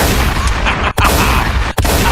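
Cannon blasts from a pirate-themed combat robot in the game Robot Arena 2: a loud, dense roar of repeated booming fire with two brief gaps, steady and close throughout.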